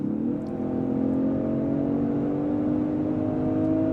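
A 2024 Range Rover Sport P400 engine pulls hard after a downshift, a steady rising drone heard from inside the cabin, loud and sustained with no talking.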